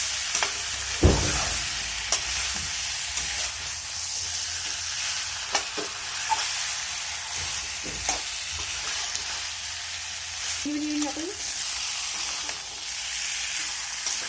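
Chicken curry meat fries in a pan and is stirred, giving a loud, continuous sizzle broken by occasional sharp scrapes and knocks of the utensil. No one speaks.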